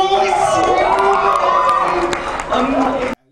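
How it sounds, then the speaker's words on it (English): A crowd cheers at a talent show, a steady, loud wash of shouting and voices that runs for about three seconds before cutting off abruptly. "At least they cheered him on."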